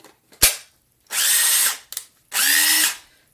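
A DeWalt 18V impact wrench fires in two loud, close bursts of about three-quarters of a second each, running on a cheap Amazon battery, with short clicks between the bursts.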